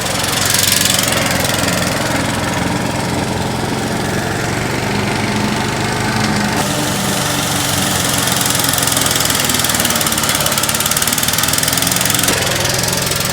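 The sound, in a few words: lawn mower engine running, old mower on thick grass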